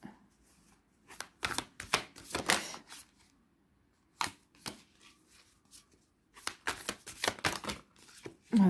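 Playing cards are shuffled by hand in a quiet room during a tarot-style reading, with repeated bursts of crisp riffling and flicking separated by brief pauses, close and fairly loud.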